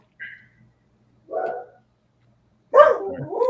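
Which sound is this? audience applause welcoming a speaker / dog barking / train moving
dog barking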